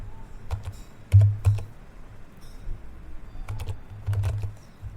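Keys clatter on a laptop keyboard in bursts of quick taps with short pauses, close and fairly quiet, no voices.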